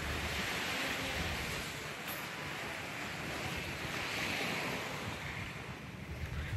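Continuous roar of surf washing onto a shore, mixed with wind buffeting the microphone, steady and fairly loud with no talking.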